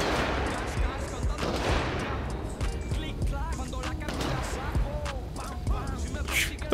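Rapid bursts of gunfire in a Grand Theft Auto street shootout between gangs, crackling shots over continuous game noise and loud background clamor, with voices talking over the action.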